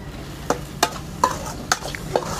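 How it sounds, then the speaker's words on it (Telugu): Tomato pieces frying in a pan are stirred with a utensil, giving five sharp scraping strokes at a steady, unhurried rhythm over a soft, continuous sizzle, close and alone without any voices. "కలుపుతూనే ఉండాలా, లేకుంటే మాడిపోతుంది టమాటా ముక్కలు."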